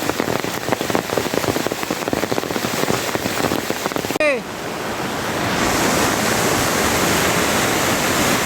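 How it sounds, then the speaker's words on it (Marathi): Heavy monsoon rain pours in the Konkan countryside beside a flooding river, a dense steady hiss of water that briefly drops at one point and then swells again into a loud continuous roar. "जबरदस्त पावसाने सुरुवात केली"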